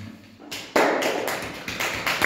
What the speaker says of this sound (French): Très bien, applaudissez pour demoiselle Rani.